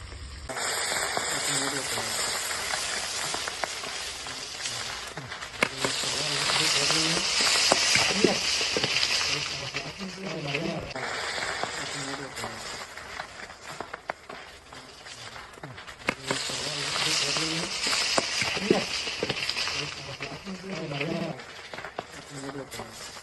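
Fish coated in chilli powder and masala spices fries in hot oil with a steady crackling sizzle that swells and eases across the stretch, sounding close, with occasional birds faintly in the background.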